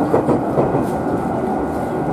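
An unrenovated 209-500 series commuter train on the Sobu Line rumbles along at speed, a loud, steady interior roar with faint rhythmic wheel clatter.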